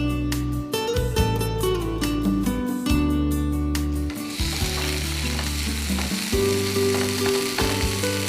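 Tomato pieces fry in a pan on a stove for a millet kichidi, a continuous close sizzle with bursts of stirring and scraping, loud and alone without talk.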